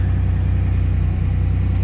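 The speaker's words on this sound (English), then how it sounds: "It is a bit loud, as there seems to be a minor exhaust leak on one of the headers." A 1986 Pontiac Firebird V6 idles with a minor exhaust leak at one of the headers, giving a loud, steady, low rumble with an even pulse that runs unbroken throughout, close to the car.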